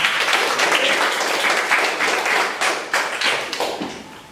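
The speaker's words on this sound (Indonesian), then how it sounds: "Tepuk tangan." Students in an Indonesian classroom clap together as applause, producing a close, choppy burst of claps with uneven hand-slap accents and a few thuds, lasting several seconds without speech.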